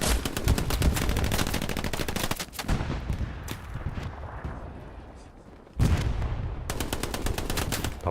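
Rapid automatic gunfire in Hell Let Loose, a competitive WWII shooter: dense machine-gun bursts rattle loud and close, pause briefly amid softer scattered shots, then resume in a sustained stream, with a commentator talking over it.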